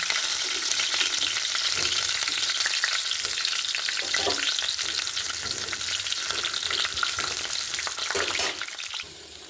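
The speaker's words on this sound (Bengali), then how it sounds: "এগুলো আমি এক এক করে রান্না করব খুব আগে ফুলকপিটা ভেজে নেব" Cauliflower fries in oil in a flat pan, giving a steady, close sizzle with a little stirring and no talking.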